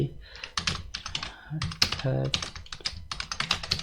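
Keys clatter on a computer keyboard in quick, irregular bursts of close, crisp clicks, with a short pause midway and a faint voice speaking briefly underneath.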